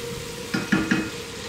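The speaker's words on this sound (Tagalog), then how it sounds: "Yan, gisain po natin 'yan" Oyster sauce sautéing in a hot pan with a steady sizzle, punctuated by three quick stirring scrapes in close succession.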